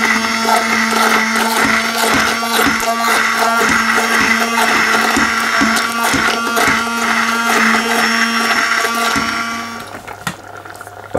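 A blender purees a chard and coconut milk garden soup, a loud, steady motorized whir with a constant hum that runs for about ten seconds before cutting out and leaving faint clatter.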